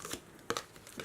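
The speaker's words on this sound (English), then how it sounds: "you're just going to fold it on that last score line" A scored paper file folder is folded along its last score line, producing a few quiet, brief crinkles and a sharper crease-snap in the middle, close and faint with no talking.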